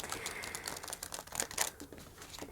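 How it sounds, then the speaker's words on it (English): A deck of tarot cards is shuffled up close, a quick run of crisp papery clicks and riffles with no talking. "now I'm going to shuffle the cards for you real good"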